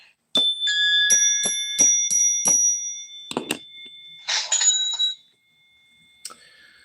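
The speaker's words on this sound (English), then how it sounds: "you wouldn't be hitting a bell over and over again" A bell rings out again and again in quick succession, bright sustained tones struck about six times, then a few more scattered strikes and a fading final ring.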